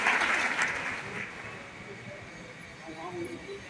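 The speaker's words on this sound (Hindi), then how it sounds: "एक बार मैं चाहता हूँ मेरे पेरेंट्स के लिए जोरदार तालियां है" An audience applauding in a hall, a broad wash of clapping that is strongest at the start and fades to a thinner patter, with a voice speaking faintly underneath.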